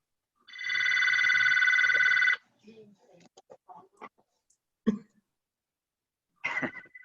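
A phone buzzes loudly and steadily for about two seconds, a single unbroken electronic drone, followed by faint scattered voices and small sounds.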